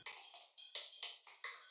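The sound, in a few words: phased drum break layer with chorus and reverb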